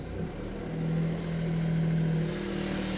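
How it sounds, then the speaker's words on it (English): A Toyota GR Yaris being driven on roads around the Nürburgring gives off a subdued, steady engine and exhaust hum that swells slightly, faint and alone with no voices. "This is, by the way, how the exhaust sounds, or how it doesn't sound"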